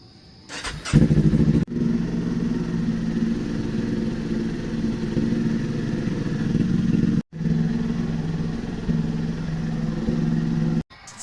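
A Kawasaki Ninja motorcycle engine starts and runs at a steady idle nearby, with a couple of brief cutouts, loud and continuous without speech.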